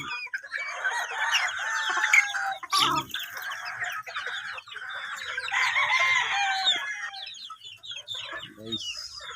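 Chickens cluck and peep continuously at close range, a busy flock sound with dense overlapping calls, and the chicks among them chirp; one sharp knock cuts through near the three-second mark.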